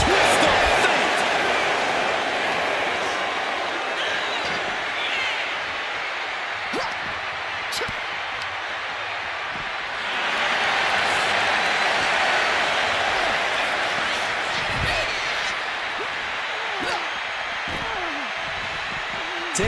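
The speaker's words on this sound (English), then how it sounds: "Taking a moment to get pumped off of this crowd's incredible energy." Arena crowd noise in the WWE 2K25 wrestling game, a sustained roar of cheering and applause swelling midway, with a commentator talking over it and occasional thuds from the ring.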